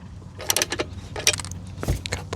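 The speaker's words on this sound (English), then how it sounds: "we'll just loosen this bolt" A bolt on a Rippa R10 mini excavator is loosened with a hand tool, giving a few close metallic clicks and ratcheting scrapes in short irregular bursts.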